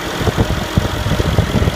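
Mercedes-Benz CLS63 AMG S-Model 4Matic coupe's 5.5 liter bi-turbo V8 with direct injection idling up close, a dense steady rumble with a slight uneven pulse throughout.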